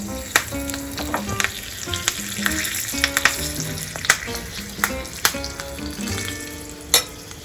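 Cumin, asafoetida and curry leaves hit hot oil for a raita tempering, making a loud, continuous sizzle and spatter with frequent sharp pops and crackles, close and alone with no voices.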